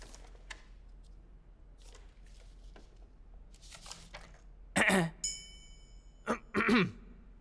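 A few short coughs burst out near the end, preceded by soft shuffling and faint indistinct background sounds.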